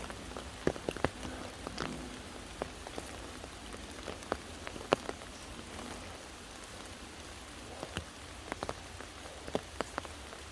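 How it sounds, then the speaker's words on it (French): Rain pattering steadily in woodland during a thunderstorm, with a dense patter of drops and scattered louder individual drips striking close by, no talking. "Il pleut toujours."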